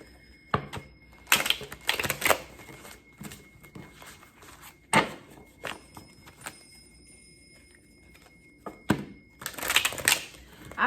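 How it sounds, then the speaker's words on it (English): Reading cards are shuffled by hand in short, crisp bursts of riffling and tapping, close and fairly quiet, with pauses between bursts. "I'm gonna shuffle about 2 times."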